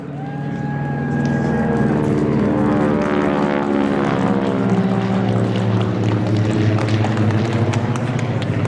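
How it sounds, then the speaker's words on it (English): A T-6 warbird propeller plane drones overhead, its loud, rough engine and propeller buzz building and holding steady, with faint crowd noise beneath at an outdoor memorial park opening. "there looks like the T-6 is overhead."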